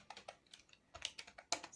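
Rapid keystrokes on a computer keyboard while typing a letter in a word processor, a quick, uneven run of close clicks in small bursts with short pauses and no speech.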